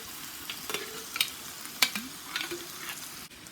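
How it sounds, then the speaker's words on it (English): Marinara sauce being stirred into baked ziti pasta in a pan over the heat, with soft scraping and wet stirring strokes and a faint sizzle underneath, no one talking. "And stir all this together."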